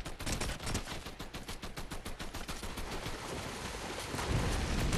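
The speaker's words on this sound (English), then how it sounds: "what the hell are they shooting at?" Rapid gunfire in the video game Fortnite, a long string of evenly spaced shots rattling steadily, fairly faint and distant, with no talking over it.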